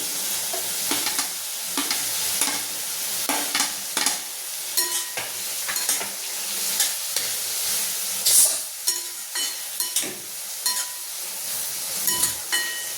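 Capsicum stir-fried in a pan for pav bhaji, a bright steady sizzle punctuated by rapid, rhythmic spatula scrapes and clinks against the metal, close and fairly loud.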